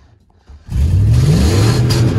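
A 2021 Ford F150 Limited cranks and fires, then its engine settles into a loud, steady rev that rises and holds close by, after a brief quiet moment.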